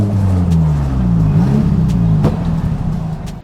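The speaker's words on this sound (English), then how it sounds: "what it's really like to drive an S15 Silvia" A Nissan S15 Silvia heard from inside while driving, its engine droning steadily with pitch rising and falling through gear changes, loud and continuous with no talk.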